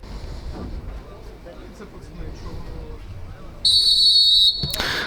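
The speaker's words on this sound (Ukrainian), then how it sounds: "Стартовий свисток пролунав, друзі." A referee's whistle sounds one sharp, loud blast lasting about a second to start an amateur cup football match in Ukraine, heard over outdoor wind noise and crowd murmur.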